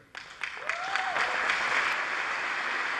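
A crowd rises for a standing ovation for a speaker, the applause swelling from scattered claps into a dense, steady roar that holds to the end.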